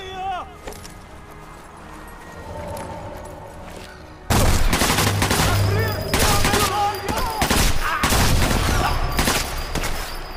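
Gunfire in Sniper Elite 4 during the Bitanti Village mission. A quiet stretch gives way to loud, sustained shooting and blasts that continue to the end, with someone speaking over parts of it.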